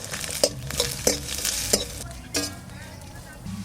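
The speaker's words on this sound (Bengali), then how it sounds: "নারকেলটা আমি এখন একটু তেলে ভেজে নেব।" Chopped coconut fried in a little oil gives a close, bright sizzle broken by repeated sharp stirring scrapes and clinks of a spatula against the pan, then a quieter steady fry.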